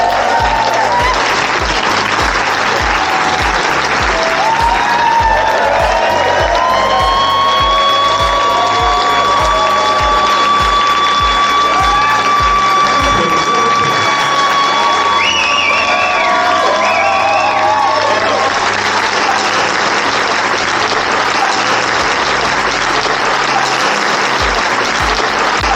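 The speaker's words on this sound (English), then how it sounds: "Round of applause, please." An audience at a fan celebration event greets John Wardley with sustained loud applause and cheering, a dense crowd roar holding steady throughout, with tonal whistles or sustained tones rising partway through.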